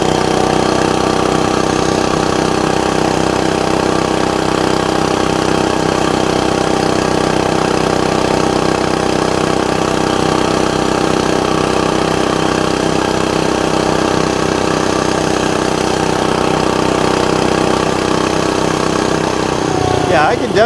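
Gas mini bike engine running continuously close by, a loud, steady mid-pitched drone with a buzzy rasp, holding even throughout before a slight change at the very end.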